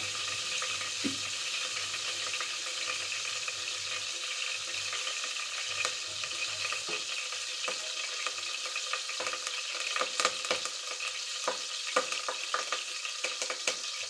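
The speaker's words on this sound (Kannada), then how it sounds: "ಸಾಸಿವೆ ಕಾಳೆಲ್ಲ ಚಟ ಚಟ ಅನ್ನಕತ್ತು." Mustard seeds and curry leaves splutter in hot oil, a dense continuous sizzle with scattered crackling pops, close and steady throughout.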